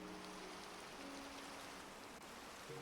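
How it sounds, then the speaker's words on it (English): Soft, steady rain falls in a video game, a faint continuous hiss with a few thin tonal hums drifting underneath and no talking. "It is annoying that it's always raining for some reason."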